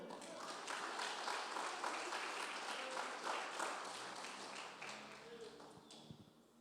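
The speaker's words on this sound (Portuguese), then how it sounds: "Será que você pode aplaudir o Senhor?" A church congregation applauds in a sustained wash of clapping that gradually thins toward the end, with a faint voice underneath.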